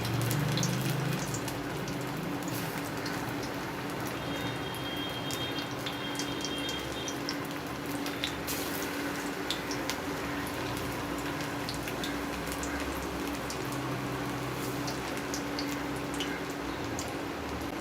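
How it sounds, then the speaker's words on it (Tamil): Small balls of corn vada batter frying in oil over a low flame, giving a steady, dense crackle and fizz that runs without a break, close and fairly loud, with no voice. "எண்ணெயில் போட்டுக்கோங்க சிம்மில் வச்சுக்கோங்க"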